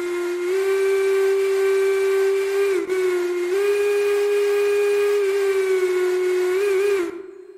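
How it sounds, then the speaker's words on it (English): A Baldwin Hooter steam whistle in the game Railroader blows one long, loud, steady chime-like tone with a brief dip partway through, then cuts off sharply near the end. "So our first whistle here is going to be a Baldwin Hooter."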